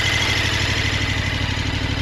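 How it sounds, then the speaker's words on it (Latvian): A 2026 KTM 1390 Adventure R motorcycle with its original exhaust idles steadily up close, giving a continuous even low throb with no revving. "Motoriņš patīkami ņurā."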